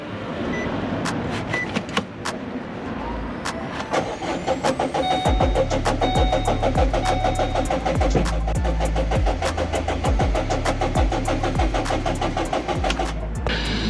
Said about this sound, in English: It's cranking, but it's not starting.